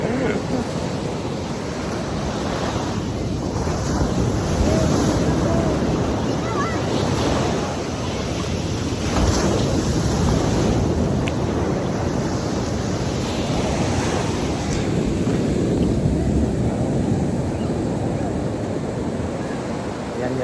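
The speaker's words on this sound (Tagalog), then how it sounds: "Malalakas yung alon ako dito." Strong ocean waves crash continuously on Abagatanen beach in Agno, Pangasinan, a loud, broad surf roar with surging swells and wind buffeting the microphone throughout, with no clear voices.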